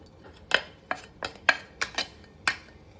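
Spoon scraping and clinking in a pan while a ground curry leaf mixture is stirred in, about eight distinct close knocks and scrapes at an uneven pace, with no talk.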